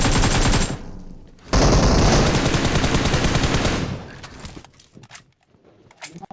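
Rapid automatic gunfire in the PUBG Mobile battle-royale shooter, loud and close, comes in two dense bursts of sustained fire, the second lasting over two seconds, then trails off into quieter scattered shots and brief clicks.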